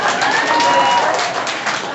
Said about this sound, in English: you should get an applause there